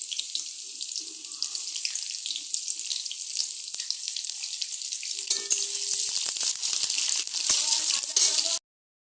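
Bay leaves and onions sizzle in hot oil, a bright hissing crackle that holds steady, then swells louder with clattering stirring before cutting off abruptly.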